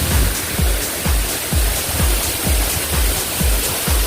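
Batlag Falls in Tanay, Rizal roars as a steady, loud broadband rush of falling water, close by, with a pulsing low-end thump recurring about every half second beneath the continuous spray and no voices.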